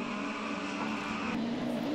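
Rallycross race cars, a Skoda Fabia and a Peugeot 208, race at Sosnova with a loud, sustained engine roar that holds steady close by, free of any voices.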